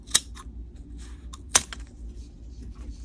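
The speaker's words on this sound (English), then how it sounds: "I'm just going to take a pair of scissors and cut it right here at the" A pair of scissors snips through beading thread at a seam while making a seed-bead bangle bracelet: two sharp, close cuts about a second and a half apart, with faint handling clicks between them in a quiet room.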